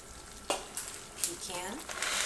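White chocolate is stirred quickly into a pumpkin fudge mixture in a pot, giving a few brisk scraping strokes of a spoon over a soft, steady background hiss, close and quiet.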